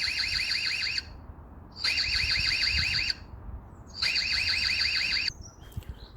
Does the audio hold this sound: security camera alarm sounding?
yes